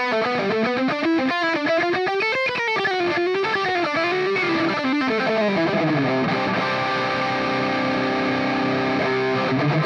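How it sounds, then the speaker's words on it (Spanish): Distorted electric guitar through a NUX MG30 multi-effects pedal plays a fast run of sliding, bending notes, loud and continuous, then settles into sustained ringing chords toward the end. "Ahora imagínate con distorsión"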